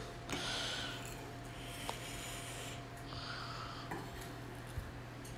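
Cooked onions go onto a plate in a home kitchen, with a few light clinks and scrapes of a utensil against the dish over a low, steady background hum.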